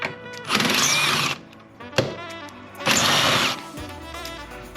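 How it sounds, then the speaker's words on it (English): A power tool backing out two 10 mm factory bolts on a 2018 Jeep JK Rubicon, two loud buzzing bursts about a second each with a metallic clunk between them, close up. "So we're going to remove these 2 factory bolts."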